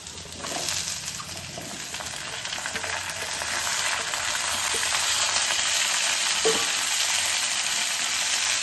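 Pumpkin, beans and eggplant frying in a pan of oil for a spinach ghonto, a steady close sizzle that swells slightly louder over time, with faint stirring clinks and no talking.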